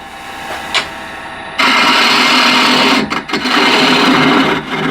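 A ball gouge roughs out a wooden bowl on a lathe, a loud, steady shaving roar with a brief touch early on, then continuous cutting broken by two quick pauses.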